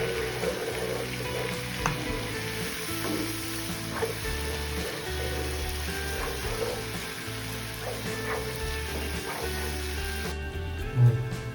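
A Bengali khirod katla fish curry mixture sizzles steadily in a hot pan while being stirred, with an even frying hiss, repeated soft scraping strokes of the spoon and a louder knock near the end.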